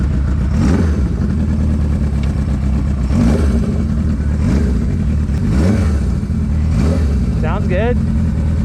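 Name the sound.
Suzuki GS750 cafe racer motorcycle engine revving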